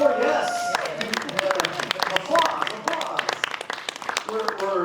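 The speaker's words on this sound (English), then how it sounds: "Applause." An audience at an Oklahoma State Superintendent town hall claps, a dense, moderately loud spatter of hand claps that carries on throughout, with voices talking over it.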